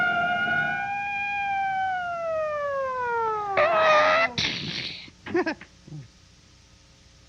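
Police car siren in an old film, a single long wail sweeping downward and fading, followed by brief clattering sounds and short bursts after it stops.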